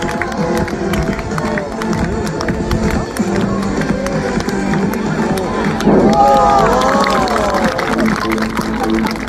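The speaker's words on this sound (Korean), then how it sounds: "박수가 좋다" Applause and cheering from a crowd at a magic show, dense clapping and shouts mixed with babble and a voice, growing louder midway.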